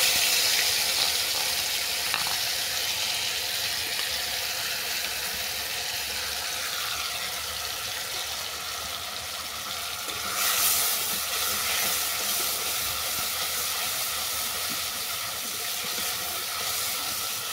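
Banana flower batter goes into hot oil over a tempering of dried red chilli and bay leaf, giving a faint, steady hiss of frying that runs on with little change.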